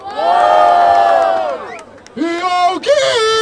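A crowd at a Brazilian street rap battle in Barueri lets out a loud, sustained cheer with shouts and whoops. After a brief dip a second burst of yelling follows, close and dense.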